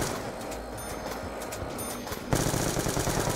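Rapid automatic gunfire from Black Ops 2 Zombies rattles on in a dense, loud stream, then grows harsher and fuller partway through, with no one talking.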